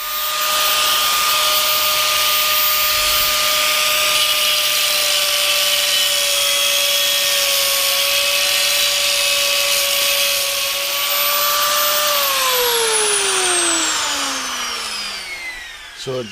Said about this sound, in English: So just keep cutting like that all the way around until you've gone completely round.